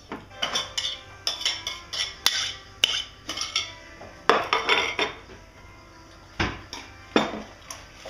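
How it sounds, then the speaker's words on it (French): Butter being mixed in a salad bowl with a whisk, giving a steady run of sharp clinks and scrapes of metal against the bowl in irregular bursts, close and fairly loud. "on va mélanger donc le beurre dans notre saladier"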